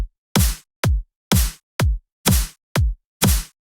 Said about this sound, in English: Snare slaps before and after sounds like this.